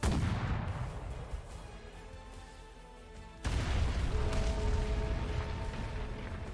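A cannon in Arknights fires with a heavy boom, and after a pause a second sharp blast strikes the giant ancient bell at the center of Octarig, leaving a sustained metallic ringing hum.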